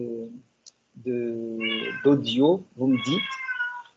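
A house cat meows several times during an online class, a run of close, drawn-out, pitch-bending calls that sit right alongside a person speaking.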